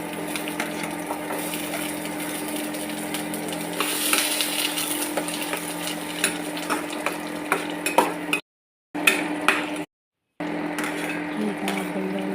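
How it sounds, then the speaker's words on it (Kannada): Garlic, ginger, chili and tomato frying in oil in a pan, a steady soft sizzle with occasional clinks and stirring scrapes of a utensil, close by. "ಈಗ ಬೆಳ್ಳುಳ್ಳಿ, ಅಲ್ಲ, ಮೆಣಸಿನ್ಕಾಯಿ, ಟೊಮೆಟೊ ಎಲ್ಲ ಹಾಕ್ಕೊಂಡು ಚಲೋ ತಂದು ಹುರ್ಕೋಬೇಕು"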